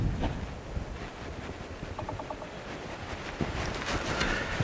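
Wind gusts across an outdoor spot by the water, a steady rumbling buffet against the microphone that swells louder toward the end, with a few faint ticks and knocks underneath.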